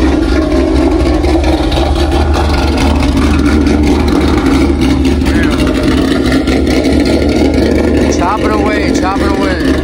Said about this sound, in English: let's go to the back so you guys can hear what this thing sounds like